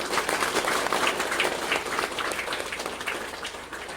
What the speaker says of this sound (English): So give a big round of applause to you people.